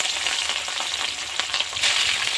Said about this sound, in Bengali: এবার মাছগুলো তেলের মধ্যে দিয়ে ভেজে নেব।